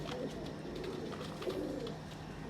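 Soft, low cooing of a top-quality male pigeon repeats a few times against a steady background hum, fairly close and moderately quiet.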